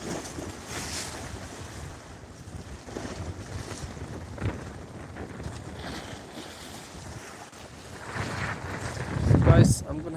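Strong wind gusts over the Toronto lake waterfront, buffeting the microphone with loud roaring rushes and the wash of waves beneath, the gusts peaking sharply near the end.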